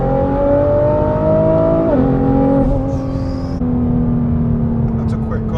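A tuned all-wheel-drive Nissan GT-R accelerates hard from inside the cabin, its engine tone climbing steadily before a gear change drops the pitch, then pulling again loud and close.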